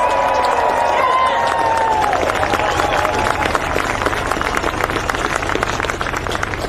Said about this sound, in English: so if we could give a massive round of applause for Frank, please!